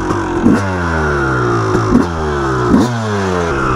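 A Yamaha YZ 250 two-stroke supermoto motorcycle idles with a buzzy, rattling note close by, then is revved in three sharp blips, loud and with no voices.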